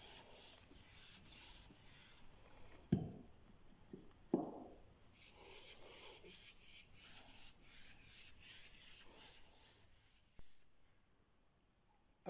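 Light oak dye being rubbed by hand onto coated MDF during a conservatory makeover, a steady close-up rasping wipe with rhythmic strokes and a couple of sharper knocks, no voices.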